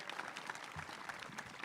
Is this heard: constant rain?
no